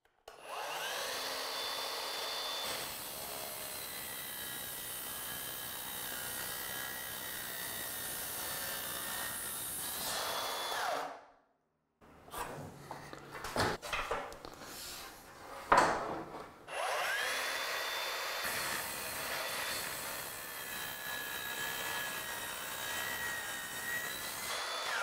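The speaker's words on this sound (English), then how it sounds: "So I had to grab this smaller miter saw. This is the 7 1/4 Milwaukee." A Milwaukee 7 1/4 inch miter saw cuts a wooden window stool with a loud, sustained whine that runs for about ten seconds, breaks off briefly, then starts again for a second long cut.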